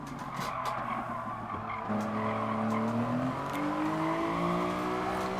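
Tires skid and squeal as a car oversteers in Gran Turismo Sport during a Fugu Z Cup race, a sustained rising screech layered over a steady engine drone, loud and continuous throughout.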